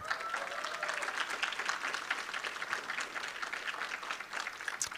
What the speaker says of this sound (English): please stand, feel free to applaud.